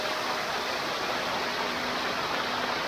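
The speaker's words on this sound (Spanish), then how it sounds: "Llegamos a una de las cascadas." A waterfall at Laguna Brava in Nentón, Huehuetenango, Guatemala, pours into a river with a steady, even rushing roar of broadband water noise and no other sounds.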